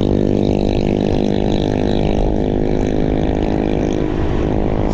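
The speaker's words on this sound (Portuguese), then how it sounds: "Essas motos, é um barulho tão grande, esses canos." Loud, continuous engine roar with a deep rumbling drone, steady throughout, like motorcycle exhausts revving nearby on the streets of Alhandra, Paraíba.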